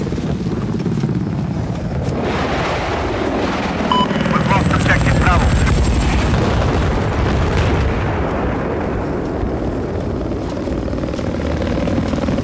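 An enemy helicopter in the video game Battlefield 4 roars loudly and continuously, its rotor and engine din mixed with explosions, gunfire and wind-like rush throughout.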